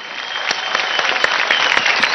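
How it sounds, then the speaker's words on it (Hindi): A studio audience at the TV dance competition Dance India Dance claps in a loud, dense burst of applause, with individual sharp claps poking through the continuous roar. "इस सोच के लिए ताली"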